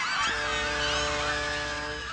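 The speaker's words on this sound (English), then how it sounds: "and the flock of geese" A flock of geese honking as a comedic sound effect, a loud, dense chorus of overlapping nasal honks sustained over two seconds.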